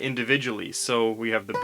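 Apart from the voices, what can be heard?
No distinct noise like a dog, phone or traffic.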